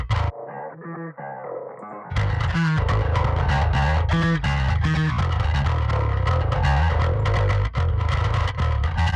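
Distorted, growly bass guitar sits inside a dense metal mix, entering loud and full after a thinner two-second intro and driving continuously with heavy low end and gritty midrange.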